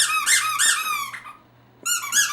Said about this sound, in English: Only Moon likes squeaky toys.